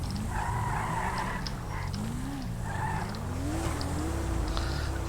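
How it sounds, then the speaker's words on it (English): Loud car engines and tire skidding in the FiveM driving game, revving tones rising and falling continuously with screechy squeals layered over them. "God, these cars are so loud."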